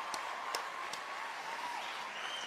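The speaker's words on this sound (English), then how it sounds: "And I am standing up as I'm applauding." Audience applause at a figure skating world championships fills a large arena as a faint, steady wash of clapping with a few sharper claps standing out.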